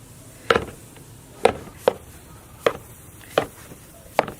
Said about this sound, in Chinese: 切成大小均匀的剂子